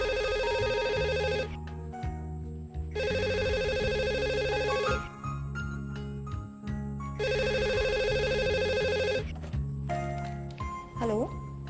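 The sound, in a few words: telephone ringing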